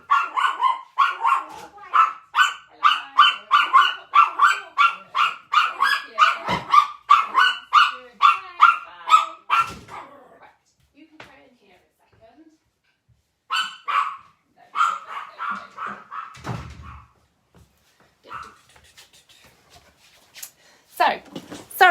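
A pet dog barks repeatedly and loudly at someone at the door, a fast run of close barks, then a pause with small whimpers and a few more scattered barks and yips.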